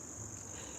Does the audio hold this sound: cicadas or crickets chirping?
yes